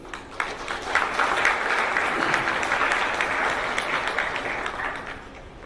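An audience applauds steadily for several seconds at an opening address in Ho Chi Minh City, Vietnam, a dense, even clapping that swells early and holds before easing off slightly.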